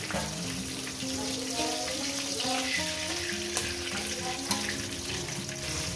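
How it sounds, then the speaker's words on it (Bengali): Catla fish pieces frying in oil in a pan, a steady sizzling hiss running throughout with faint clinks, while music plays along underneath. "বাদ বাকি মাছগুলো আমি দিয়ে দিয়েছি এগুলো ভেজে নেব"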